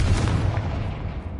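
A Confringo fire spell in Hogwarts Legacy bursts as a short, booming explosion with a deep rumbling low end that fades quickly.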